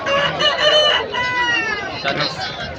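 A country chicken crows loudly and close by at the Mydukuru country chicken market in Kadapa, one long drawn-out harmonic call with a brief second rise, and a faint voice behind it.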